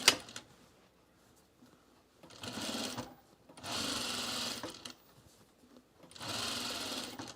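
Sewing machine stitching a seam on pajamas, running in three separate bursts of a second or more each, near and fairly loud with quiet pauses between, no talking.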